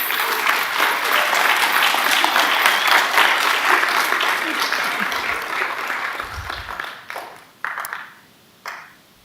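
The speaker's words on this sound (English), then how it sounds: "So let's give her a round of applause." Audience applause at a school board meeting, loud and sustained for most of the stretch before thinning into a few scattered claps and fading out.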